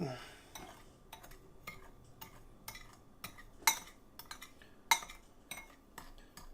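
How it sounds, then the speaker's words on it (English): A utensil stirs ground cinnamon into a dessert base for a cinnamon tortilla snack, giving a steady run of scraping strokes against a bowl with a few sharper metallic clinks standing out, close and moderately quiet, with no talking. "You want to put in some cinnamon and then go ahead and just mix these together."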